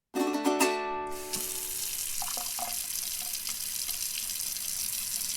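Water running from a turned-on tap, a steady hissing splash that begins after a brief ringing musical tone fades out and continues evenly at close range, with a few small clinks early on.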